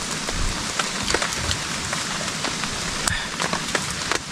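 Steady rain pours down in a forest storm, a continuous close hiss of drops striking leaves and surfaces with scattered sharper taps, no voices.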